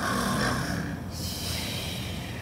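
A voice imitates a long, rumbling snore, one drawn-out breath with a snorting rasp, close and fairly quiet.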